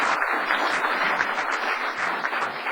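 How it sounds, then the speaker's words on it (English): Audience at a town council meeting giving a round of applause for youth award winners, moderately loud clapping from a modest crowd with uneven bursts throughout. "Let's have one more round of applause for our Youth Citizens of the Year."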